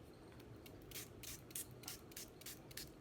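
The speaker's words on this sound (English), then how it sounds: "when you spray it with the spritzer" A spray bottle of water gives several quick, soft hissing spritzes onto a painted art background in a loose rhythm, close by and fairly quiet.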